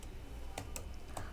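A few light keystrokes tap on a computer keyboard, close and quiet, with three or four separate clicks over a low hum while code is written for a PHP and MySQL e-commerce site.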